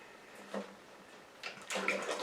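Water poured into a pot while preparing a brain-tanning solution for a hide. It comes as short splashing gushes, with a longer, fuller stream at the end, close and moderately loud with no voices.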